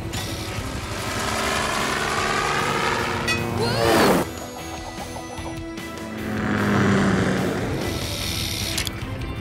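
Cartoon helicopter belonging to Skye in PAW Patrol, a steady engine and rotor drone running throughout at moderate loudness, with a sharp whooshing sweep near the middle and a swelling pass later.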